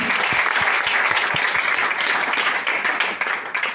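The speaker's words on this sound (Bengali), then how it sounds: "ওনার জন্য একটা জোরদার করতালি" Audience applause at a DXN office gathering honoring an upline mentor, a dense steady patter of many hands clapping close by for several seconds, thinning slightly toward the end.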